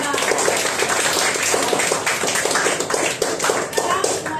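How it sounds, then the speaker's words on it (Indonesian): A ninth-grade class at a school gathering claps together, a brisk burst of many hands tapping in quick uneven rhythm, close and fairly loud, with some murmuring voices mixed in. "Tepuk tangan buat kelas 9 besar."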